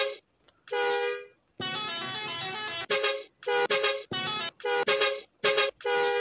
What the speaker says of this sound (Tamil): பொருங்க நான் அடிச்சு காமிக்கிறேன் ஹாரனை.